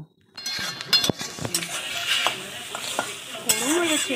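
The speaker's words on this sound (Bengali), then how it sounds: "আর এখানে পেঁয়াজ রসুন সব ভাজছি।" Onion and garlic frying in a pan, with a steady close sizzle and stirring scrapes and a few light clinks of a utensil against cookware throughout.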